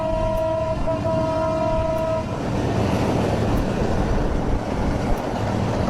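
A passing train sounds a long horn blast that cuts off after about two seconds, then a loud, steady rumble of wheels and wagons rolls on close by; no speech.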